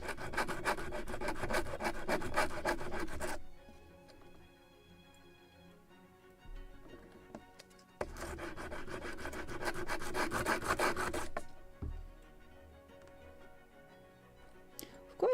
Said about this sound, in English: Maybe a little more of sanding on this side, because from where from here it's actually rounded.